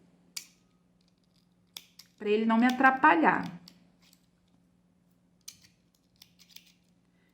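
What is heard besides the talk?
scissors trimming crochet yarn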